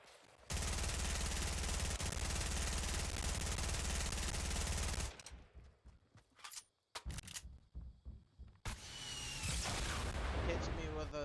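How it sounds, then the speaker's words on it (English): Loud sustained weapon fire and explosive blasts in Fortnite Battle Royale, a rocket-heavy barrage that roars continuously for about five seconds, then breaks into scattered thuds and impacts before rising again. "Hits me with a nasty little rocket."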